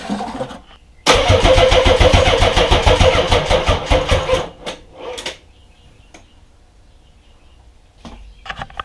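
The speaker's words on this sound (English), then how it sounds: "Obviously it cranked over." A Nissan 300ZX twin-turbo engine cranks over loudly for about three seconds with a rapid rhythmic starter chatter but does not catch, followed by quiet and a few faint clicks.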